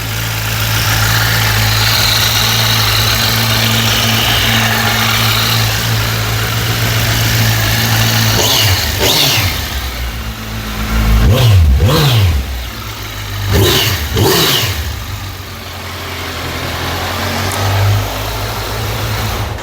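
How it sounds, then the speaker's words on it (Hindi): A Kawasaki Versys 1000 motorcycle engine idles steadily with a low, even rumble, then revs up sharply a few times in quick bursts before settling back to idle. "तो इंजन का आपने साउंड सुन लिया।"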